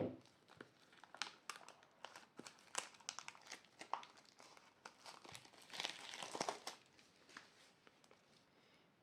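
Plastic wrapping torn off a sticker box by hand, with crinkling, crackling and tearing in irregular bursts, close up and fairly quiet, several sharp rips among softer rustles.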